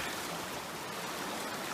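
A flowing river at a backcountry hiking crossing on an overnight trek to Loomis Lake in Don Getty Wildland Provincial Park, rushing steadily and fairly close, a constant broadband wash of water with no voices over it.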